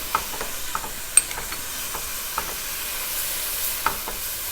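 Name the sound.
spices stirred into frying garlic and ginger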